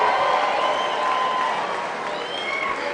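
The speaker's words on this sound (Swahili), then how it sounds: "Nataka tusimame na tumpigie makofi" An audience at a Kenyan political gathering bursts into applause, with dense, sustained clapping and faint crowd voices throughout.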